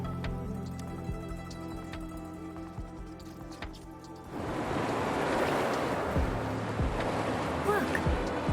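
In the game Wuthering Waves, water recedes after a brief passage of music, shifting into a steady rushing wash of draining water, close and continuous, with a few soft splashy drops.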